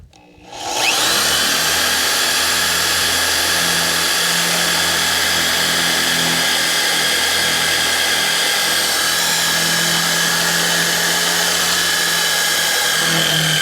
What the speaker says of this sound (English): let's turn it on to drill